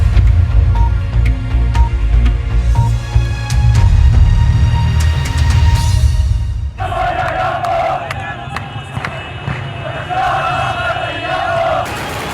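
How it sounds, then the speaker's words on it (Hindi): A loud street crowd of rebels celebrating the capture of Hama, Syria, shouts and cheers, with sharp cracks of celebratory gunfire scattered through the noise and a rumbling engine beneath it. "विद्रोही सड़कों पर परेड करते हुए गोलियां चला रहे थे।"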